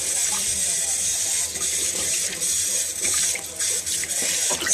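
A tap runs water steadily and loudly into a small improvised tub while a pet is bathed, a continuous gushing splash with a faint voice beneath it.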